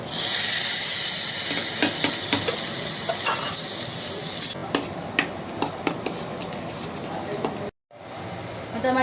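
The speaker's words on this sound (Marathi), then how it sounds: "तर सांबारला उकळी येईपर्यंत मी आता चटणीला फोडणी देऊन घेते." Mustard-seed tempering crackles and hisses loudly in hot oil for a dosa chutney, a bright steady sizzle for several seconds before easing into softer spitting with scattered clinks of a spoon.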